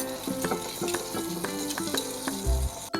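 Butter melting in a pan to fry bread, a soft continuous sizzle with small crackles and a few light clinks of a utensil, close by and moderately quiet.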